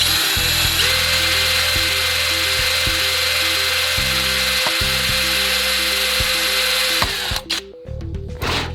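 A power drill with a 4mm bit runs continuously through an aluminium bifold door frame, giving a loud, steady whine with small shifts in pitch, then cutting off near the end.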